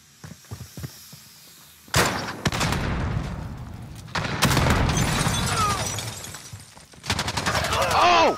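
Gunfire in the Call of Duty Gunfight mode, with heavy bursts and rapid automatic shots in loud clusters after a few quiet taps, alongside excited voices.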